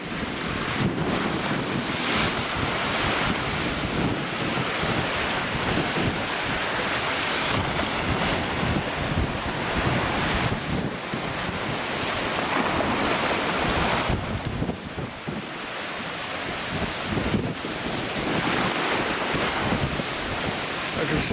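Sea waves crash and splash over the harbour wall at Watchet at high tide, a continuous roar of surf mixed with heavy wind buffeting the microphone, the surges rising and falling with no speech.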